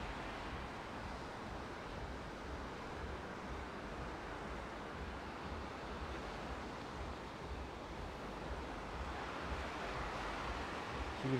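Sea waves along the evening beach promenade at Side, a continuous broad wash of surf and wind noise at low level, steady and distant with no voices.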